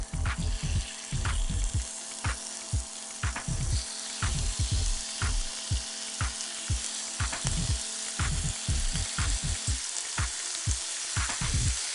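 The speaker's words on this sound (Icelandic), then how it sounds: "Þannig að steikja þau með kryddunum." Boneless chicken thighs fry with spices in a pan: a steady loud sizzle with frequent spatula scrapes and knocks as the meat is stirred, and no voices.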